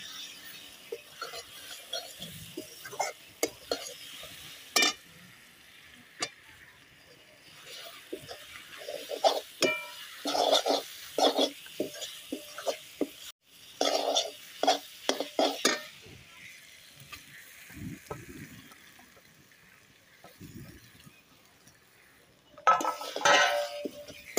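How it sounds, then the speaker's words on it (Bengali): Spoon stirring elephant foot yam mince in a pan, a run of close scraping, clinking strokes in uneven bursts with quiet gaps and a soft sizzle underneath. "দিয়ে অল্প অল্প করে দেব আর নাড়বো"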